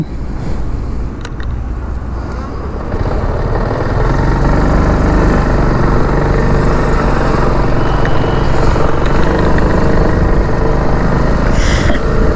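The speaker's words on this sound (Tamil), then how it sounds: "ஓகேங்க, ஸ்டார்ட் பண்ணிவிடுவோம்." TVS XL 100 moped, 2025 alloy-wheel variant, starting up and then running steadily; a lighter rumble for the first few seconds swells into a loud, continuous engine drone, close by with no talk.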